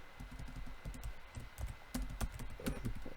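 Quiet keystrokes clatter on a computer keyboard in quick, uneven runs with brief pauses, close by and soft, with no talking.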